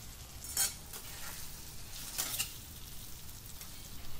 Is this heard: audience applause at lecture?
no